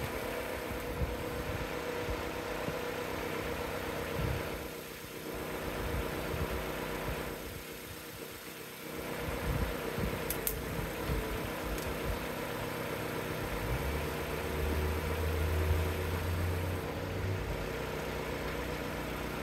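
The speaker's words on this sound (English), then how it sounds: "here's the soothing sounds of the 4-cylinder again" A four-cylinder engine idles nearby in a steady, even hum with a faint vibration, continuing unbroken for the whole stretch and a little louder near the end.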